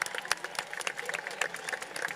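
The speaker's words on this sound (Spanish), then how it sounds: "¡Un aplauso para la banda!" Festival crowd in Alcorcón applauding the municipal band, dense, busy clapping from many hands, moderately distant and steady throughout.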